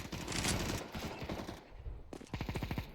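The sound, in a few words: gunfire in Counter-Strike 2 video game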